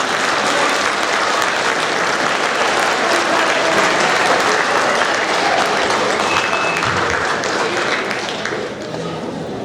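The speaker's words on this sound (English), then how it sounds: "one last round of applause for these kids" A school audience claps loudly and continuously for seventh-grade students at an awards ceremony, a full room of applause that holds steady and then eases slightly near the end.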